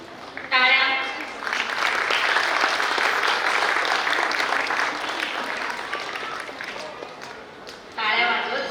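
An audience applauds at a school annual function with about six seconds of dense, sustained clapping. A voice speaks briefly before the clapping and again after it.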